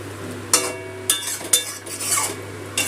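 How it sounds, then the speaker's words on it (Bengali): Okra being stirred with spices and a little water in a pan, with a few distinct scraping clatters of the spoon against the pan over a steady low hum, close and moderately loud. "জলের সাথে মশলা ঢেঁড়স সব ভালো করে মিশিয়ে নিলাম"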